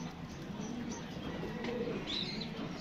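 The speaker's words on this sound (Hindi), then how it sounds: "कबूतर देखें ज़रा माशाल्लाह कैसे कबूतर हैं" Pigeons coo softly in a loft, low murmuring calls over a steady background hum, with faint chirps and no talking.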